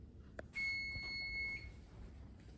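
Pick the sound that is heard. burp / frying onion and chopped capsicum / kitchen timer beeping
kitchen timer beeping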